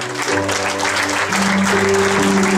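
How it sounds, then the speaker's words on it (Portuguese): Church congregation applauding during an evening worship service, dense crowd clapping over sustained keyboard chords, steady and fairly loud throughout. "pode aplaudir o Senhor nessa noite"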